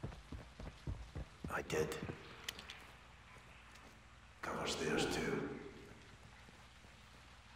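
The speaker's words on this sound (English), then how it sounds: "It's raining fucking hard." Rain pours down hard in a Call of Duty Modern Warfare II campaign scene, a soft steady hiss under quiet talking voices, with heavier surges of downpour and splashing.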